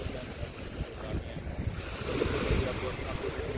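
Waves wash in at the water's edge with a constant surf roar and strong wind rumbling on the microphone, swelling louder about midway.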